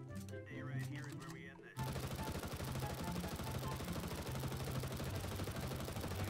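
AWP sniper rifle and other gunfire in the CS:GO shooter, a dense rapid stream of loud sharp shots that takes over after a brief stretch of background sound.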